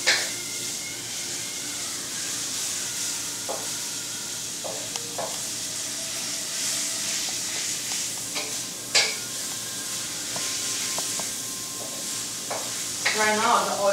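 Ingredients being pressed and stirred in sizzling frying oil, a steady, loud hiss and crackle throughout with occasional scraping and knocking of a utensil against the pan.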